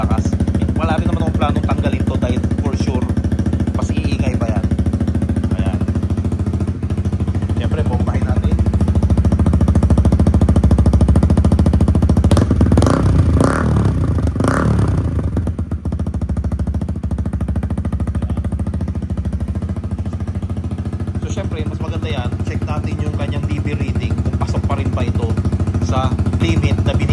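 A new motorcycle's engine running with a silencer fitted, a steady close rumbling idle with rapid pulsing and a brief rev partway through, while someone talks over it.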